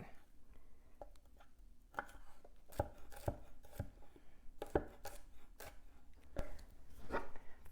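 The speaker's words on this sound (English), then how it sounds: "I have 4 garlics here, so I'm going to cut those up" Four garlic cloves are chopped with a knife on a board, producing quiet, irregular taps and thuds that come in small clusters, close and fairly soft with no talking.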